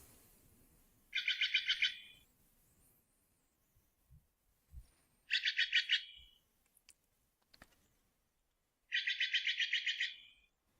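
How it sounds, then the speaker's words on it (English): Steller's jays calling at a backyard bird feeder: three separate bursts of rapid, harsh, rattling chirps spaced a few seconds apart, fairly close, with faint clicks and knocks in the quiet gaps and no talking. "these are some stellar jays. They're fun little birds that I feed over at my bird feeder over here where I live"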